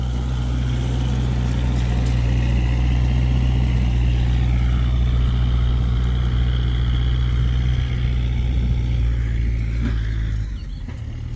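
A Kubota MU49 tractor engine drones steadily and loudly while ploughing a rice field, with a constant low hum and a slight drop near the end.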